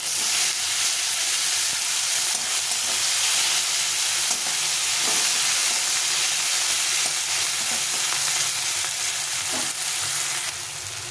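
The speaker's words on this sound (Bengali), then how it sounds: "এই টমেটোর মধ্যে একটু লবণ দিয়ে দেবো কারণ এটা খুব নরম হয়ে যাবে লবণ দিয়ে ভালো করে ভেজে নেব" Tomatoes with salt fry steadily in a pan, giving a dense, continuous sizzle with occasional stirring scrapes, close and fairly loud throughout, with no voices.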